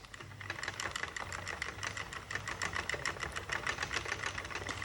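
A Sentro knitting machine is cranked with yarn feeding through, giving a quick, steady run of light plastic clicks and rattles over a soft whir, close up and fairly quiet.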